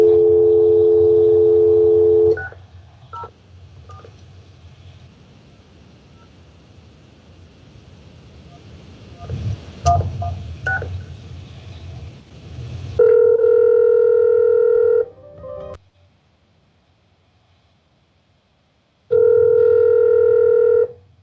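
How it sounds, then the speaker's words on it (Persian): Telephone keypad tones on a call-in line to a Persian TV program, heard as three long, steady, loud beeps separated by stretches of low murmur and quiet, with no voices over the tones. "تلفن جدید هست اینجا، اینه که با اشتباهی دکمه رو دارید فشار میدید"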